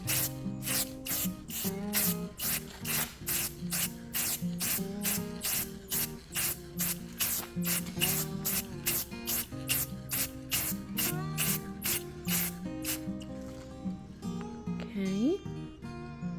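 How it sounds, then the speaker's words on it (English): Champagne bronze golden spray paint hisses from an aerosol can in a rapid series of short, close bursts, steady and rhythmic, ending with a brief rattle. "we're going to go back over it with our champagne bronze golden spray paint"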